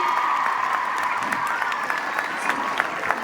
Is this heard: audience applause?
yes